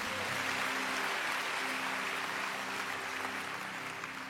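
A church congregation claps for God during a sermon, a dense, steady wash of applause from a large crowd that fades slightly toward the end, with no voices standing out.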